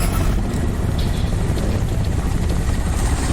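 Helicopters fly overhead in the video game Homefront Revolution, a steady loud rotor and engine drone that fills the whole stretch without letup and with no talk.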